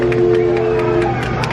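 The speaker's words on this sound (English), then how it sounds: "He's getting applause from the ship." Applause and cheering from passengers aboard a ship at Disneyland, passing as Jack Sparrow appears: a sustained crowd roar with scattered clapping, heard over a steady low engine or ride hum.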